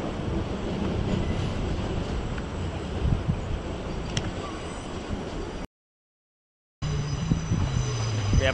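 Class 444 trains arriving at London Waterloo from Portsmouth and Poole, heard as a steady, distant station rumble of rolling stock that cuts out briefly before resuming, with no talking.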